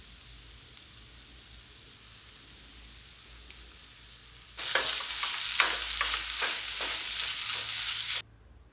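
Garlic ginger paste dropped into hot oil for a vegetable masala curry, quiet background at first, then a sudden loud, close, crackling sizzle with stirring strokes that continues for several seconds before cutting off.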